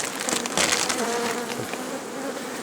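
Bees hum steadily around a flowering linden tree beside an apiary, a dense continuous buzz from many insects heard close, with no voices.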